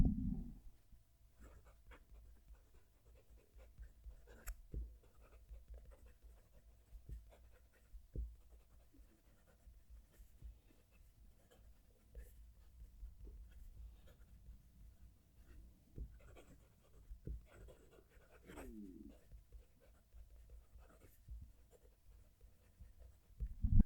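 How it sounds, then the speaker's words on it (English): Nahvalur Key West fountain pen scratching across textured paper, heard up close as soft, intermittent nib strokes and faint scraping over a low background hum, with occasional louder ticks as the pen lifts and touches down. "I'm going to move the mic down to the page so you can hear the pen writing."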